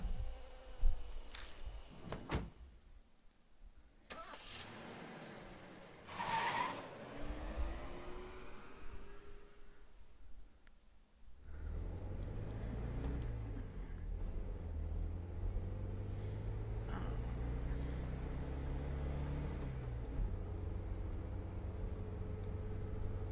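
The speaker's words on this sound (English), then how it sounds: "I pull out of the deserted parking lot and drive back to the mansion" A car engine in a video game idles low, then revs up and drives off out of a parking lot, a steady engine drone filling the second half after quieter rustling and clicks.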